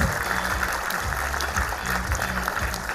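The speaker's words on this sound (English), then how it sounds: "a big applause for our pre-nursery and nursery children parents" Audience applause at a school annual day for pre-nursery and nursery children, a steady wash of clapping from a large crowd that holds evenly throughout, with a low murmur beneath.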